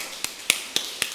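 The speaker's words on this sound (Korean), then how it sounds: "이 손등을 한 손으로 때리듯이 치는 박수로 양손을 번갈아 가면서 하면 좋아" Back-of-hand clapping, one hand striking the back of the other in alternation, gives four sharp, evenly spaced slaps about a quarter second apart, crisp and close against a quiet room.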